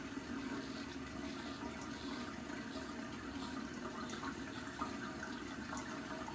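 A little water is added to shaving soap lather, heard as a continuous rushing trickle like running tap water, steady and close throughout.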